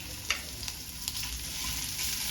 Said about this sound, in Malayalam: എണ്ണ ചൂടായിട്ടുണ്ട്. അതിലേക്ക് ഇഞ്ചി ഇട്ട് കൊടുക്കാം.